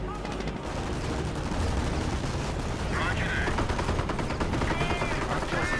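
Dense, continuous battle noise from the video game Company of Heroes, with rapid gunfire bursts and booming explosions, loud and chaotic throughout, with faint voices mixed in.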